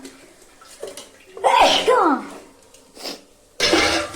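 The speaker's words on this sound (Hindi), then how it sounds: "तड़का लगाने से मुझे छींक तो आती है।" A sharp sneeze bursts out between quiet moments of speech, followed by a second short burst a moment later.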